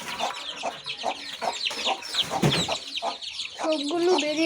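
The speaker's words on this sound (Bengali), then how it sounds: "আচ্ছা, এখন আমি এই মুরগিটাকে ছেড়ে দিই।" Several chickens cluck and squawk in a busy, close, irregular flurry as they come out of their house, with ducks kept nearby on a pet farm.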